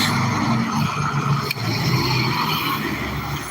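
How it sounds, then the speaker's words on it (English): Fast-moving truck passing on a city street, a loud steady roar of road traffic and tire noise throughout, close by with a brief dip midway. "Fast moving truck."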